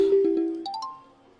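A phone ringtone plays alone, a short electronic melody of a few bright rising tones that fades out within about a second and a half.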